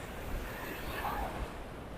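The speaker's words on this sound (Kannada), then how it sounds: "ಸಮುದ್ರದ ಅಲೆಗಳು ಎಷ್ಟು ಜೋರಾಗಿ ಬರತ್ತವ ಅಂತೇಳಿ" Sea waves surge on a Goa beach in a brief stretch of steady, rushing surf noise with some wind buffeting the microphone, heard close and moderately loud.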